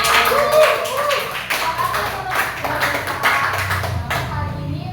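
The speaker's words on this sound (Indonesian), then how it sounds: "Maka dari itu yuk kita tepuk tangan dulu." An audience at an Indonesian organizational training session claps together, a dense run of close hand claps that continues for several seconds, with voices mixed in.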